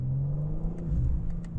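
2025 BMW M4 Competition LCI engine accelerating, heard from inside the cabin as a steady low rumbling drone with a rising whir, continuous and fairly loud with no talking.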